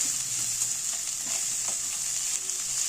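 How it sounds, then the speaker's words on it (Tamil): Grated coconut sautéed in a pan for chutney gives a steady, moderate sizzle with faint intermittent stirring scrapes throughout, and no talking. "இப்போ நல்லா வதக்கி எடுத்துக்கலாம்"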